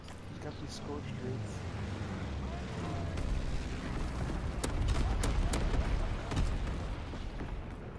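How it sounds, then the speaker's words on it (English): Carpet bombing run in a multiplayer video game, a dense rolling barrage of deep rumbling explosions with sharper cracks in the middle seconds, heavy and continuous, with a voice talking over it. "now I'm gonna do the carpet bombing because Patty's out"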